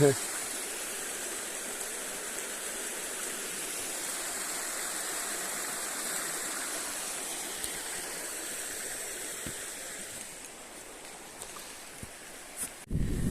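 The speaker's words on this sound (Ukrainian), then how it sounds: "То річка Рожанка." The Rozhanka river in Zakarpattia rushes and gurgles steadily nearby, a continuous watery wash that dips slightly near the end before a brief louder rustle.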